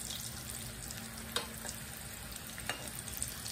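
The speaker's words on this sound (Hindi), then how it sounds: "और अब हम अपने स्प्रिंग रोल जो बचे हुए हैं उन्हें भी फ्राई कर लेते हैं इस तरीके से।" Veg spring rolls deep frying in oil give a faint, steady bubbling sizzle with a couple of brief pops and crackles, quiet and even over a few seconds, with no speech.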